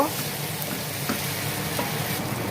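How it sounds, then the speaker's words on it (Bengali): Fish pieces sautéed in a thick fish gravy (kosha): a dense, continuous close-up sizzle and bubbling fry with faint stirring scrapes, no voices. "মাছটা আমি এখন 2 মিনিট কষা নেব।"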